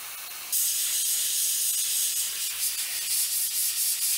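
Airbrush misting a light transparent brown paint over an alligator swimbait, a steady close hiss of spray that starts after a brief pause and runs on with slight pulsing.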